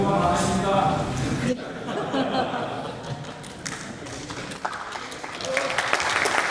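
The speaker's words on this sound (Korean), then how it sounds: "박수 치지 마세요." Scattered clapping rises among lawmakers in South Korea's National Assembly chamber, mixed with chuckles, thumps and overlapping talk. Claps come in uneven bursts rather than a sustained ovation.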